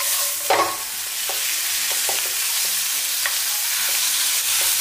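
Eggplant and green peppers stir-fry in a hot wok, giving a steady loud sizzle with spatula scrapes and knocks against the pan at uneven intervals, and no talking.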